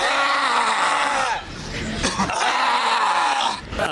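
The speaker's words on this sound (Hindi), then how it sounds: "जबान को बाहर निकालकर जिस्म की सारी कुव्वत लगाकर चीख मारने से मसाम तो खुलते हैं" A person lets out a loud, strained scream with the tongue stuck out as a power yoga exercise, a sustained full-force cry that breaks briefly midway and then resumes just as intensely.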